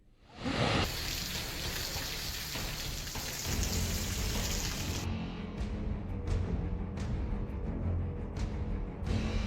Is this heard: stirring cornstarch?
no